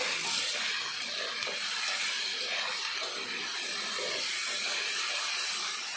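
Onion and tomato paste hitting a hot pan for a Bengali chicken and potato curry, a loud, continuous broadband sizzle that holds steady throughout.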